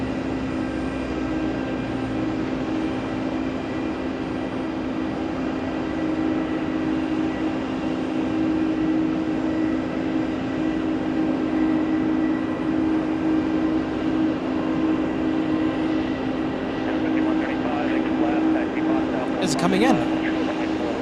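An Aer Lingus airliner arrives at JFK airport with a continuous, even engine roar that holds steady throughout, while a person talks over it.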